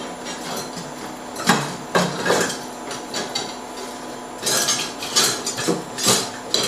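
Wooden spoon stirring zucchini and mushrooms in oil in a hot pan, irregular knocks and scrapes against the metal with a faint background hum and no talk.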